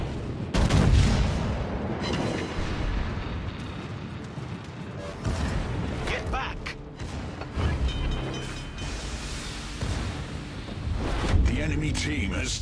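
Naval artillery guns fire in World of Warships on the battleship Nelson, heavy booms and rumbling salvos rolling across the scene amid mechanical clanks, with voices talking over the battle.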